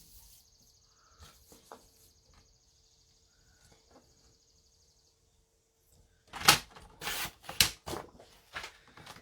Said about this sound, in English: I'm going to cut this card